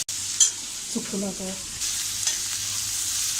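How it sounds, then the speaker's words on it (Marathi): Onion frying in a pan for a Marathi drumstick vegetable dish, a soft steady sizzle with a brief stirring scrape near the start and a short clatter of the utensil in the middle. "आपल्याला हा कांदा एकदम छान असा लालसर रंगावर परतून घ्यायचा आहे"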